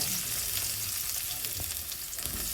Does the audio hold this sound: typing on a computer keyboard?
no